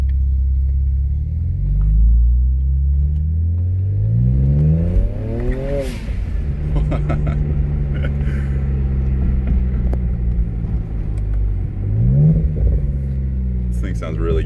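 A BMW 335i, rebuilt after a wreck, revs repeatedly on a test drive, its engine note climbing and dropping in several rising sweeps, loud and close with a steady rumble between pulls, while someone talks over it.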